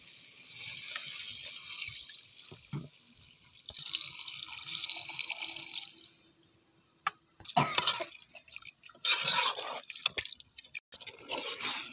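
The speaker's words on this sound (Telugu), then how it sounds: "వాటర్ యాడ్ చేస్తున్నాము." Water is poured into a pot of simmering country chicken curry, giving a close splashing, trickling pour with a few drips and a brief cough, set among quieter pauses.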